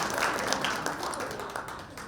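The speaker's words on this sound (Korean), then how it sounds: "우리 55회 우리 이상준 사무총장에게도 큰 박수 부탁드리겠습니다." Brief, moderate audience clapping in a hall at a school alumni ceremony, with a steady patter of many hands.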